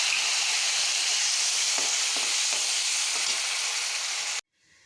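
Tomato paste hits hot oil with potatoes and sizzles loudly and steadily, a dense close hiss with a few brief crackles, before it cuts off abruptly near the end.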